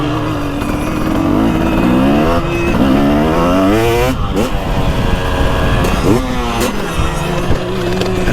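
A 2023 TX300 Heritage Edition two-stroke dirt bike rides over rutted ground, its engine revving up and down loudly and continuously, with someone talking over it throughout.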